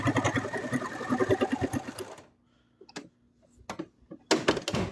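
A sewing machine stitches and backstitches a seam on a plush Cthulhu wing: a rapid close mechanical chatter for two seconds, then a pause with a few isolated clicks and short bursts, and a final quick run of stitching.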